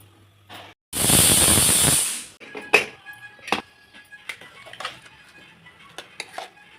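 A pressure cooker of spinach dal lets out a loud hissing burst of steam lasting about a second and a half, followed by scattered metallic clinks of pots and utensils nearby.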